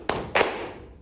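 Two sharp hand claps in a music class, spaced a fraction of a second apart, crisp and close with a short room tail.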